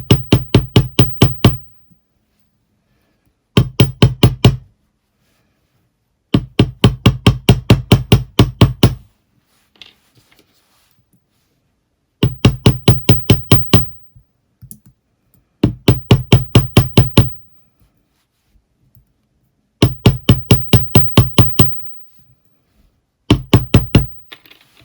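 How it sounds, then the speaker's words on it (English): Light hammer blows work-harden jewellery wire for hoop ear wires, landing in quick, evenly spaced bursts of sharp metallic taps separated by short pauses, close and clear with no talk. "We're just work hardening it just very, very slightly."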